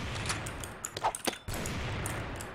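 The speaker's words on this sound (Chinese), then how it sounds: "你他妈乱开枪干什么？" Gunfire in the shooter game CrossFire, a search-and-destroy match with an AA12 shotgun, heard as several quick sharp shots in a cluster amid steady background game noise.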